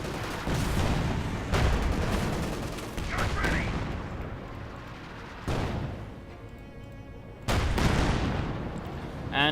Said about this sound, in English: We also got the Stug firing into the flank there.